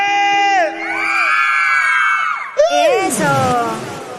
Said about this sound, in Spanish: Ese grito de las mujeres.